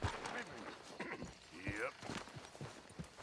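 A horse in the video game Red Dead Redemption 2 clops its hooves along at a steady walk, faint and mixed with ambient noise, while someone briefly speaks.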